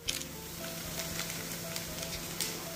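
Baking soda foaming in boiling water for pretzels gives a steady fizzing and crackling hiss, with faint low hum underneath and occasional sharper pops.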